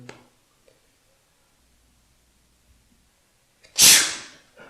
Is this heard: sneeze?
yes